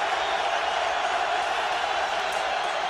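Steady, dense roar of a packed football stadium crowd at a 2008 Eagles vs Cowboys game, continuous and loud without breaks, no distinct voices standing out.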